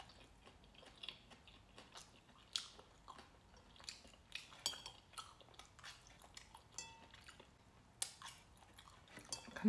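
Someone eats a dinner drenched in chili oil: close, quiet chewing and biting with scattered sharp clinks of cutlery against dishes, irregular and intermittent over a near-silent background.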